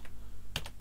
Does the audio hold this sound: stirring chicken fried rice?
no